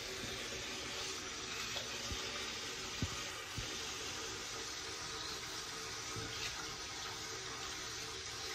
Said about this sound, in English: Gonna wash my face.